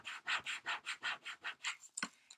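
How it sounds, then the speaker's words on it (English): A squeegee rubs transfer tape down onto glass in about ten even back-and-forth strokes, a close, raspy swishing rhythm that ends with a small knock. "using my squeegee, I'm going to squeegee this all down nice and tight"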